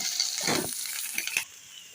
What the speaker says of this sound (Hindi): हमने लिया है आधा कप तेल, जिसे हमने गरम कर लिया है। इसके अंदर हम डालेंगे हरी मिर्चें।